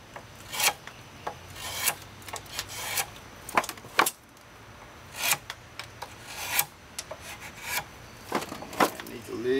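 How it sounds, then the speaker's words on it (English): A small knife shaves a wooden chair spindle's lower tenon that fits into the seat, giving a series of short, crisp rasping cuts spaced about a second apart, close and loud, with no talking. "now I'll go to one of my smaller knives here, and I'm going to shape the lower tenon"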